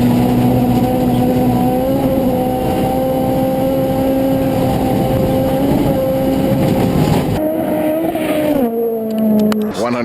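Ken Block's rally car on Gymkhana Grid roars close and loud at sustained high revs, then drops and shifts near the end with a falling engine note.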